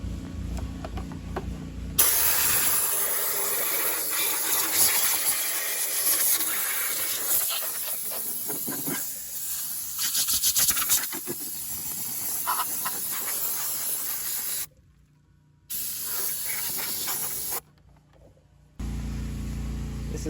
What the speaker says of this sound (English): So let's get the compressor over here and start blowing it around.